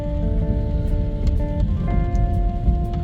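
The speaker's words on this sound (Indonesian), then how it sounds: "Di kondisi hujan" Steady rain drums on the roof and windows of a BYD M6, a dense, continuous patter with a low engine hum underneath.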